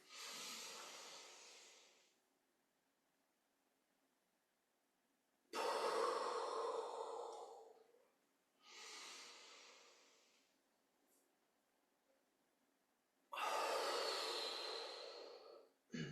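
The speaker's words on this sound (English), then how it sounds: "Inhale. Pause. Exhale. Couple more times." Deep, slow qi gong breathing, with three long airy breaths at even intervals separated by quiet pauses, close and soft, with no talk.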